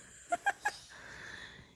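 A young child imitates snoring with three short, wheezy, nasal snorts in quick succession, followed by a soft breathy exhale, all fairly quiet and close.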